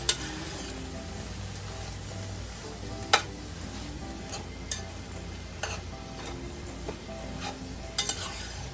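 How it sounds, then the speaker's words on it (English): Vegetables being stirred as they cook down in a hot pan for a big Sunday dinner, with a steady soft sizzle broken by a few sharp scrapes and clinks of the spoon against the pan. "I'm going to stir that down. Let those cook down and shrink."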